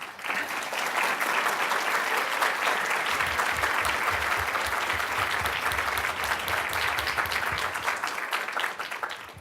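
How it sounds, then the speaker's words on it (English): Sustained, loud applause from a large conference audience, dense clapping that fills the room evenly for nearly ten seconds without pause. "let's give a big round of applause to Abby"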